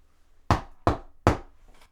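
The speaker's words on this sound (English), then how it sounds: "I wrap my knuckles on the door and grip the knob" Knuckles rap on a door three times, sharp, close and evenly spaced, followed by a fainter fourth tap.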